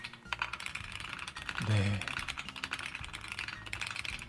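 Rapid clacking keystrokes from a custom-built computer keyboard, close and crisp, with a brief low thud midway and a short spoken word.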